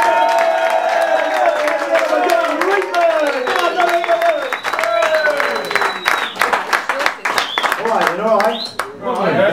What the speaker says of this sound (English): Big cheering, big whistling.